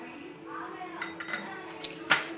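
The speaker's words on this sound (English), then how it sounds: "Now I'm going to add this to the batter and mix it" Appam batter stirred in a bowl, soft scraping and light clinks of a spoon against the dish, with a sharper clink near the end; faint and close.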